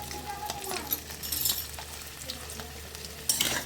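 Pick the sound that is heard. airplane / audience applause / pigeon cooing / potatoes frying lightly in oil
potatoes frying lightly in oil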